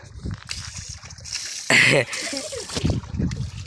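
People splash in a small water tank, with one loud burst of splashing in the middle and lighter sloshing around it. Voices talk throughout.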